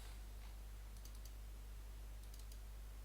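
Two brief clusters of faint, close-up key clicks from a computer keyboard sound a second apart over a steady low hum, with no talking.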